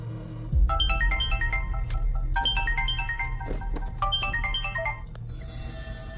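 A phone rings with a melodic electronic ringtone of repeated rising note patterns, played twice in a row over a low, steady indoor background hum.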